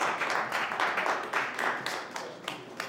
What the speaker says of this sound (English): Keep the applause down, please.